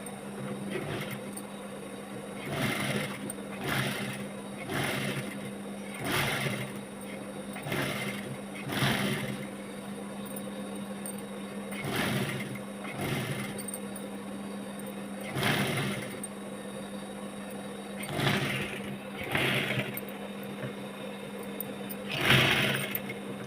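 A sewing machine stitches dress fabric in repeated short bursts of rapid whirring, close and steady, each run stopping and starting over a low constant hum, with faint talk at times.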